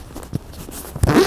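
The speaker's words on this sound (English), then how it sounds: "excuse the zips out." A bag zipper being pulled outdoors during rain while packing up macro photography gear, a short zip burst, then a louder, longer close zip near the end.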